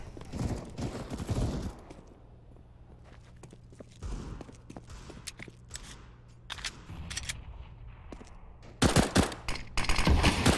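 Scattered gunshots and short bursts sound in a Counter-Strike match on the Mirage map during a StarSeries i-League qualifier, sparse in the middle and building to louder, denser fire near the end.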